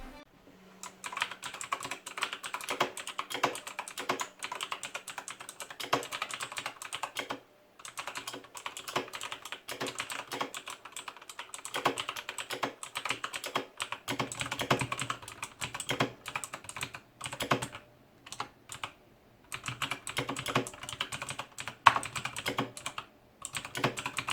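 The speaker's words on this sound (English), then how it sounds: "To give you an idea of how the Razer greens sound, here's the typing test." Steady, rapid clicking of a Razer BlackWidow Elite mechanical keyboard with crisp, clicky Razer Green switches, typed continuously with brief pauses, close up and without any voices.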